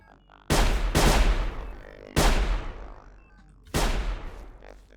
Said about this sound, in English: I think I'm gonna have to shoot one of them